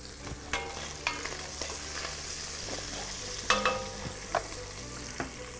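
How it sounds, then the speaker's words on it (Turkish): Grapes boiling in a pot give a steady bubbling sizzle, with occasional sharp clinks and scrapes of stirring over the continuous simmer. "Şu an üzüm kaynıyor."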